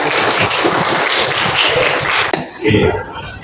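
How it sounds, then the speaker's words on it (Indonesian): Loud, dense clapping from a classroom audience fills the room, then breaks off abruptly and gives way to a quieter burst of noise. "Tepuk tangan"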